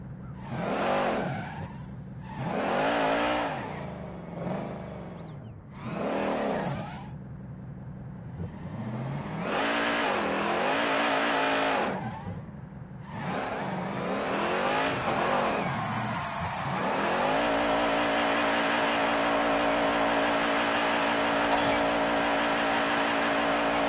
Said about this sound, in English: Wheel spin, that just makes a huge amount of noise